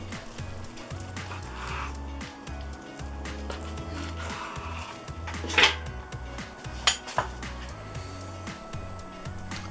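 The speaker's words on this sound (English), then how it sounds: "Let's cut a slice off and we'll do the pull test." A knife cuts into smoked beef brisket from a Dutch oven on a board, with soft scraping strokes, a few sharp clinks of metal and low background hum, no talking.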